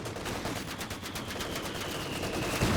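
Machine gun fire in Company of Heroes 2 battle: steady rapid bursts of automatic gunfire, fairly quiet and continuous for a few seconds, with no talking.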